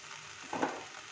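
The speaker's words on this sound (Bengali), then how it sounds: "দেখুন প্রায় ভাজা ভাজা হয়ে এসছে, আর একটু হবে।" Vegetables sizzle and fry in a pan while a bread snack is made, giving a steady soft crackle with a brief louder stir near the middle, alone and fairly quiet.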